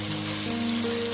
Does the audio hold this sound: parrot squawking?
no